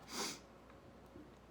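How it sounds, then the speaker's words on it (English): A single short, sharp human sneeze bursts out at the start, followed by faint quiet breathing in a near, low-level room. "The sneezes are coming out."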